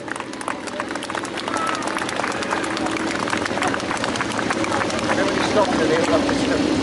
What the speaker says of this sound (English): let's give them a big round of applause there.